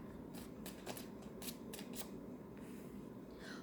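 Soft, rapid riffling and flicking of tarot cards being shuffled up close at a fortune-reading session, a series of quick crisp bursts over a steady low hum.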